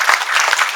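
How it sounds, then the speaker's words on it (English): Audience applause at an Italian American cultural event for a nativity display, a brief burst of many hands clapping together, fairly loud and close, with no talk over it. "I think it's fitting that we again applaud Barbara Toscano, Cavaliere Cardella, and Joh"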